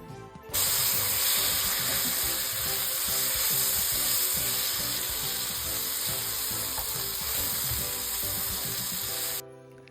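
Spices stirred in a sizzling pan for a crab roast, a steady loud frying hiss running throughout with faint rhythmic scraping underneath, cutting off abruptly at the end.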